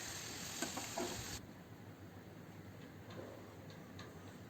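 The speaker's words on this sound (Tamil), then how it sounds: "நம்ம அதே மாதிரி மீடியம் ஃப்ளேமில் வச்சு பொரிச்சிடலாம்." Potato french fries deep-frying in hot oil over a medium flame, restaurant style, giving a soft, steady hiss with faint scattered crackles and no voices.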